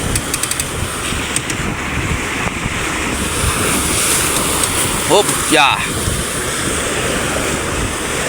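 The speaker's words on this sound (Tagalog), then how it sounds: "Nagraragas ang alon." Large Pacific Ocean waves surge and wash around a fishing boat at sea in rough weather, a broad continuous roar with heavy wind noise on the microphone and brief voices calling out.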